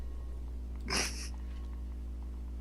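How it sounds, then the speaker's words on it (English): A trash can creature in the video game On the Rain-Slick Precipice of Darkness lets out one short, harsh snarling burst. It stands out clearly against a steady low electronic hum. "It's just growling at me."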